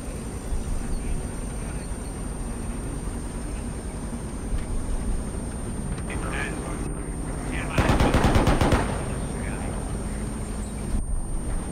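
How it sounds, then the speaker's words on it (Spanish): Aircraft machine-gun fire in 82AD Liberation, a tight rapid burst standing out over constant engine and battle rumble, with players talking throughout. "¡Nos ha disparado el avión!"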